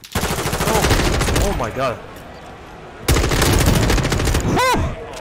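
Rapid automatic gunfire from weapons in Call of Duty Modern Warfare 2, two loud sustained bursts separated by a short pause, with a voice exclaiming briefly over the shooting.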